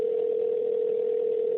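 A telephone dial tone during a phone call: a steady, unbroken hum, loud and close, with no voices over it.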